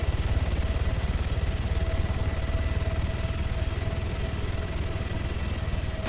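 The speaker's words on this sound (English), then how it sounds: "It has a helicopter above it." A helicopter in ARMA 3 hovers overhead above a town, giving a steady, continuous rotor-and-engine drone at moderate level with a faint whine, unbroken for the whole stretch.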